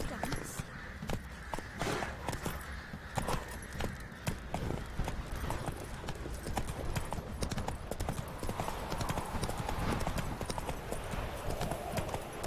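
Rhythmic clip-clop of the horse Roach's hooves walking in The Witcher 3 video game, a close, steady beat of hoof strikes under intermittent talk.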